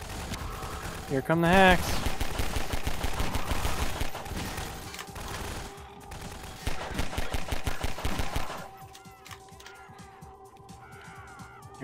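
Rapid bursts of gunfire crackle in a Garry's Mod prison-break match: a loud volley early on, then sustained automatic strings of shots in two long runs, with a voice speaking briefly between them.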